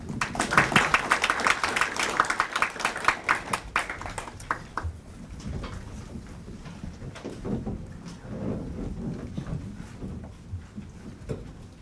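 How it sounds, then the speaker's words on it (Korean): Applause from a symposium audience on biological threat defense greets the next presenter, a dense burst of clapping that thins into scattered claps and fades over several seconds. "박수로 맞아주십시오."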